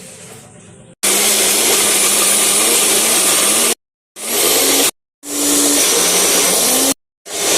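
Mixer grinder whirs loudly while grinding peanut chutney with chilli and curry leaves, running in three bursts separated by brief silent pauses, a strong close motor roar.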